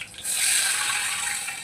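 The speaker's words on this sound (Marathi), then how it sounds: "त्याच्यामध्ये पाणी टाकून घेते" Water poured into a pot of hot oil with whole spices, mint and curry leaves for chicken biryani, erupting after a brief pause into a loud, close, rushing hiss that holds steady to the end.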